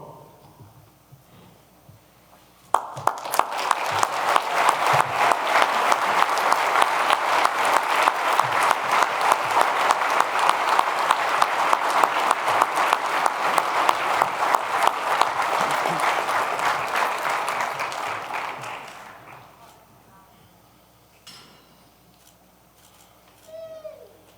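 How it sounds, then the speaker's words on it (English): Sustained applause from an event crowd honoring a Saints Hall of Fame inductee, quarterback Drew Brees, bursting in loudly, holding steady with dense clapping for about fifteen seconds, then fading out. "One more round of applause for Saints Hall of Famer Drew Brees."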